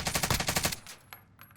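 Automatic gunfire in the video game Warzone: a loud, rapid burst of shots for under a second, followed by a few fainter scattered pops and ringing tail.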